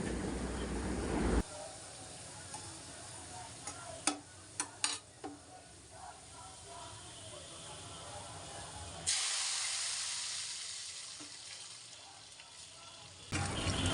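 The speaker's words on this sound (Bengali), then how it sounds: "তো সরষের তেল দিয়ে এখন আমি পেঁয়াজের বাগারটা দিব" Onions hit hot mustard oil for beef kala bhuna, a sudden sizzle and hiss, followed by stirring clatter, then a second loud burst of frying partway through.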